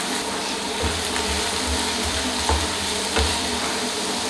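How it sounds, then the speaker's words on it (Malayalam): Chopped onions and green chillies sautéing in coconut oil in a pan, a continuous loud sizzle with occasional spoon knocks and stirring scrapes, close and alone. "നന്നായിട്ട് വഴറ്റിയെടുത്ത്"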